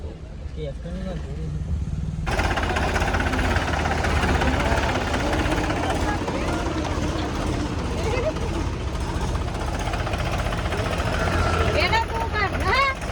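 A tractor engine runs with a loud, steady rumble that starts abruptly about two seconds in and continues throughout, with voices talking over it.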